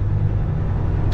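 Truck stop ambience just off I-95, where a steady low engine rumble hums close by with no other distinct sounds standing out.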